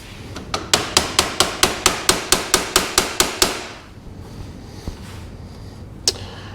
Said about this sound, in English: I'm going to give it a little tap with a hammer.